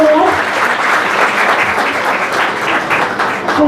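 A school audience at a prize distribution breaks into a burst of clapping, dense and close, lasting a few seconds before tapering slightly.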